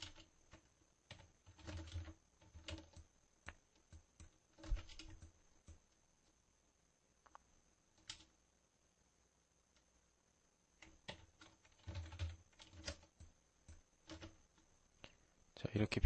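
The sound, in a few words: keys pressed on a computer keyboard in Photoshop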